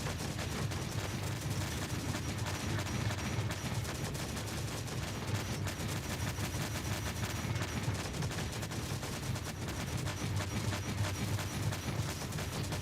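Dense, continuous gunfire and rumbling artillery barrage from a sci-fi strategy battle in Stellaris, a steady loud wash of overlapping blasts with no pauses throughout.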